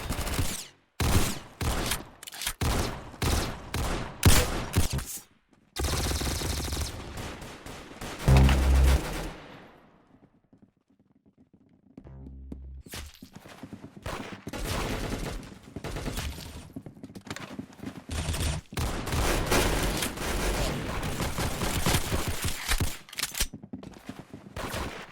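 Video game shooter gunfire: rapid bursts of loud, close shots with brief pauses and a quieter stretch midway, then sustained automatic fire, no talking.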